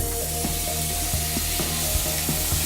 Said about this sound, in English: we're gonna go right into a hot pan with the beautiful skin on the fish. It's gonna be nice and hot, and then we want to hear a really nice sizzle.